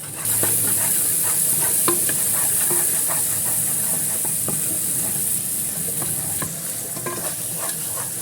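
Cumin seeds, salt and masala spices frying and being stirred in a hot pan for a mixed vegetable dish, with a steady loud sizzle and scattered scraping clicks throughout, no talking.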